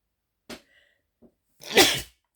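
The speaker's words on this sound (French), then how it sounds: "Excusez-moi, j'arrête pas d'éternuer." A close, sharp sneeze with a quick breath intake before it, a brief sputter, then a loud bursting release.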